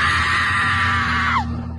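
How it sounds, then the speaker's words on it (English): A loud, sustained high scream from a person trying to drive off a protective mother bear outdoors. It holds steady for over a second, then breaks off with a quick falling pitch, over a constant low engine drone from a boat. "they raised their voices, shouting and screaming to discourage the protective mama bear"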